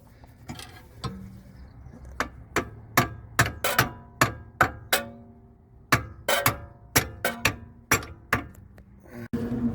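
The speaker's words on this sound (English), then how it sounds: "So I tapped it with the hammer a few times." A hammer tapping a bolt through a polyurethane rear motor mount on a 3.0 Mitsubishi SOHC, giving a long series of sharp metallic taps at an uneven pace, close and clear with no talk.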